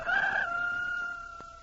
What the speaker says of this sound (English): Animals like Rocky the rooster